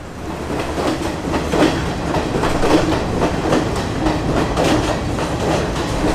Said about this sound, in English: The train's here, let's get on.